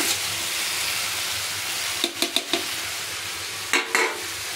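Fish frying in oil with onion, tomato, green chili and garlic, a steady loud sizzle throughout, broken by a few quick utensil clicks and scrapes against the pan near the end.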